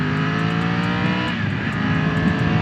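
Triumph motorcycle engine revving up as the bike accelerates on the road, loud and near with a continuous engine drone, shifting pitch midway and steady wind noise throughout.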